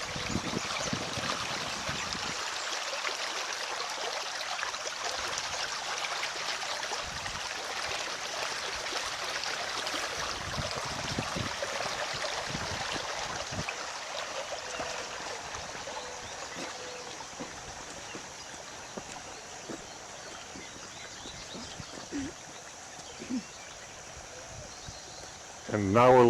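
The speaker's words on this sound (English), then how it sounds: "Here's the water coming out of the pipe." Storm water pours out of a drainage pipe beneath George Hill Road, a steady, moderately quiet rushing and trickling that holds for the whole stretch, with faint voices and outdoor wind in the background.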